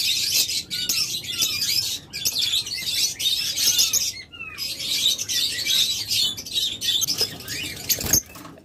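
Pet lovebirds chirp continuously in a cage, a dense, busy chorus of high, shrill tweets and chatter up close, with a brief rustle of movement near the end.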